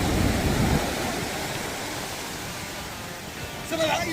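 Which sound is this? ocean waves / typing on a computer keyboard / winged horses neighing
ocean waves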